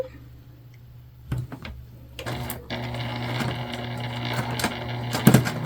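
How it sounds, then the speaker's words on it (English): A sewing machine stitches the top piece onto a candy bag at a 3/8 inch seam allowance; a few clicks and handling knocks come first, then a steady, moderately loud run of stitching. "we're going to go ahead and sew our top piece on."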